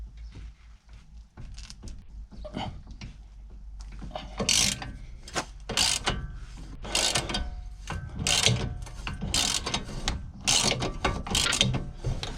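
Ratchet turning a 21mm socket on a BMW front lower control arm bolt, repeated close clicking strokes that grow busier and louder in the second half, no talking.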